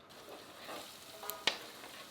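Onion frying in warm olive oil for a risotto, a soft steady sizzle close by with a couple of brief sharp crackles partway through, no talking.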